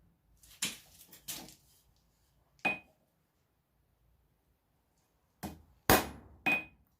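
Sharp metallic hammer blows on forged steel, ringing out as the stock for a corkscrew is cut off at the anvil, with a few spaced strikes then a closer cluster of three near the end.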